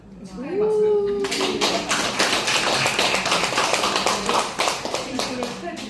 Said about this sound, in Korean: 축하의 박수.